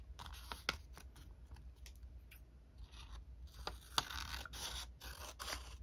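Scissors snipping through colored origami paper during a paper sword folding session, a series of soft close cuts and rustles scattered irregularly, quiet with faint hiss behind.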